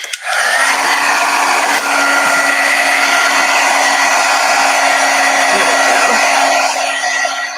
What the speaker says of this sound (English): let me hit this really quick with the heat gun